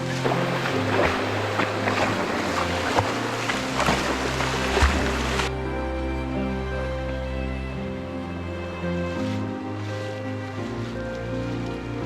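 Rain falls on the Boro Komoldoho Rupshi waterfall trail in Sitakunda as a broad, steady wash for about five seconds, then cuts off abruptly, leaving a quieter, softer outdoor ambience.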